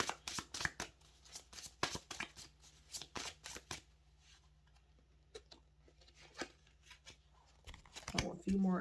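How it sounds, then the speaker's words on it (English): Tarot cards shuffled in a close series of crisp riffling bursts and slaps, busy at first, thinning out midway, then picking up again near the end. "I'm going to get a couple more of the tarot"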